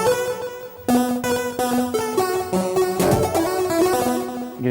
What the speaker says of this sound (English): you hear that kind of like there's an echo slightly in the background.